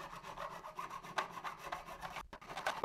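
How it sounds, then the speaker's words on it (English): A medium-wide, double-edged crowning file rasps back and forth across a guitar fret under firm downward pressure, close-up strokes in a quick, uneven rhythm with no talking. "I'm using this medium-wide, double-edged fret file, and I'll use a fair amount of downward pressure, keeping the crowning file parallel with the fret."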